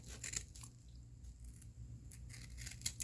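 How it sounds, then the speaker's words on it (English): Scissors snip and crunch through a chunk of material, a few short cutting sounds close up, quiet overall with sharper snips near the end. "Now we've got one of these things. I'm just gonna cut off a chunk."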